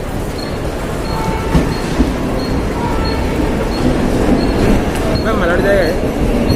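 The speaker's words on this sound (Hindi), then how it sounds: "तो आ गई हमारी लोकल ट्रेन बोरीवली की।" A Mumbai local train bound for Borivali pulls into a busy platform, a loud rumble of wheels and carriages with rhythmic clatter and a brief high squeal, while people talk nearby.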